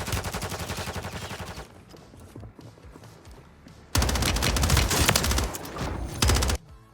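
Rapid automatic gunfire in the shooter game Warzone 3, with dense loud bursts at the start, a quieter stretch of scattered shots, then two more sustained heavy volleys, all close and with no talking.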